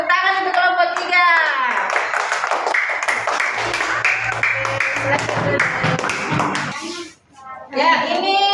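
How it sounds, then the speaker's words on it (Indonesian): Schoolchildren in a classroom applaud a group's finished project, a steady, lively run of many claps mixed with children's chatter, fading briefly before an adult voice speaks again. "Tepuk tangan untuk kelompok 3."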